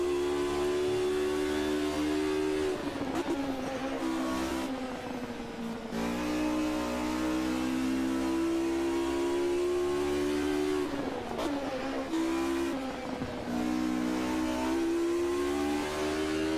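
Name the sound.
race car engines revving in video game Automobilista 2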